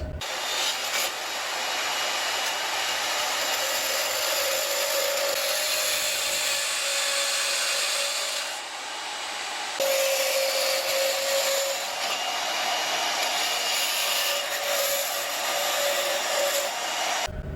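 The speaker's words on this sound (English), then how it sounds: "the queen of the bladesmith shop, the belt grinder. Specifically, a 2x72 belt grinder." A 2x72 belt grinder in a bladesmith shop runs steadily with a continuous broadband whine and a sustained motor tone. It stays loud throughout, dipping briefly partway through, and no one speaks over it.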